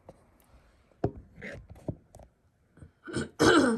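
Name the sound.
cough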